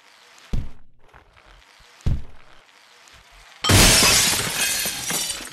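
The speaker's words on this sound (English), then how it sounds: "Break the glass, break the glass." Two sharp knocks precede a loud burst of shattering glass in Happy Wheels, the breaking crash sustained and ringing for over a second; no talking.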